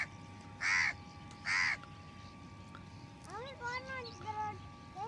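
Crows cawing at a bird festival in Aurangabad, with two loud, clear caws close by followed by softer, rising chirps from other birds over a quiet background.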